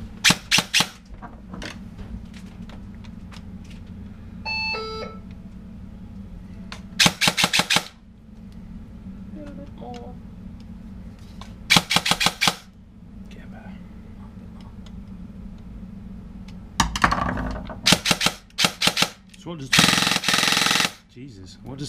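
A Warthog airsoft gun fitted with a PTS foregrip fires several short, loud full-auto bursts up close, separated by quiet gaps with faint voices and a brief high squeak.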